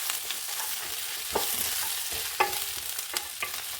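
Onions for onion tokku sauté in a pan over low heat, giving a steady close sizzle broken by scraping stirs and a few clacks of the spoon, with no voices.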